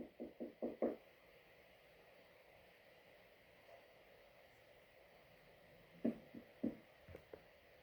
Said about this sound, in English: Is that you, dear? Are you knocking?